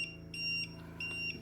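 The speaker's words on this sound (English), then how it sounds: "this is the alarm from the leak detection sensor saying that there was a" A leak detection sensor alarm on an ILT-350 underwater light spectrometer housing signals loss of vacuum with repeated shrill electronic beeps in a steady on-off pattern, over a low hum.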